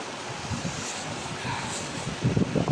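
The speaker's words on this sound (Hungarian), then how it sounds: "Kicsit extrém a környezet ismét, és hát a szél sem kicsi." Strong wind buffets the microphone outdoors beside a frozen lake, a continuous rushing roar with gusts that swell louder toward the end.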